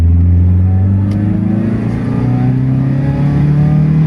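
An Opel Calibra 2.0 16V engine pulls hard from inside the car, its droning tone climbing steadily in pitch as revs rise past 4000 rpm, loud and continuous with no talk.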